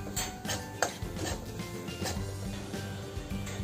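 A spoon scrapes and clinks steadily in a pan of roasting besan (gram flour) with ghee over low-to-medium flame, a continuous busy stirring noise with light metallic taps throughout.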